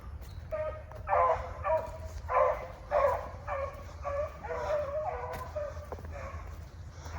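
Rabbit-hunting beagle-type dogs, Pete and Penny, chasing cottontails in North Carolina, giving a run of repeated baying barks at a moderate distance, rising and falling in bursts over steady outdoor background noise.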